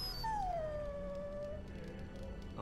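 Dog in Dragon Age: Origins, a video game: one long, high, falling whimper that fades into a softer whine, over a faint, steady game ambience.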